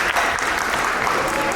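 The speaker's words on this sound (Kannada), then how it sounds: "ದಾಸ ಸೌರಭ ತಂಡದವರಿಗೆ ಒಂದು ಚಪ್ಪಾಳೆ ಬರಲಿ." An audience claps for the Dasa Saurabha singing group at a Ganesh Chaturthi cultural program: a dense, even burst of many hands at moderate loudness, short and continuous.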